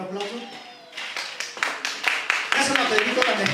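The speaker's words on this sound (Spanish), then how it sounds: "¿Otro aplauso?" A congregation at a church service breaks into applause, a quick burst of many hands clapping that builds and grows denser, mixed with talk.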